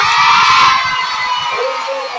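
Crowd of children shouting "ye" together at a lively storytelling event, a loud sustained group cheer that fades slightly toward the end.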